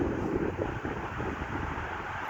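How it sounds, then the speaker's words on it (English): A gust of wind sweeps across a campsite near Flagstaff, Arizona, rumbling steadily against the microphone as a loud, continuous rush with no voices. "Here comes the wind gust of wind."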